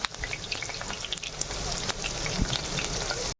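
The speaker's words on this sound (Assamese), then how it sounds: "পিঁয়াজ দি দিলোঁ, তেল গৰম হৈ" Onions frying in hot oil in a wok for chicken curry, a continuous close sizzle and crackle with occasional stirring scrapes and no talk.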